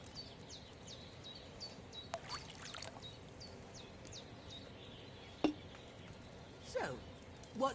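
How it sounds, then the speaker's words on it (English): Wine poured from a pitcher into a cauldron during alchemy in Kingdom Come: Deliverance II, a soft, steady trickle of liquid under a quiet game ambience with faint bird chirps and a few brief clinks. "First, you have to pour the right base into the cauldron."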